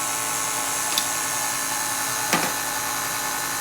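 An electric mixer runs on low speed, mixing flour into brownie batter with a steady whirring drone and two brief clanks of the beaters against the bowl; no voices.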